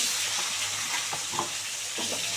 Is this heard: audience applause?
no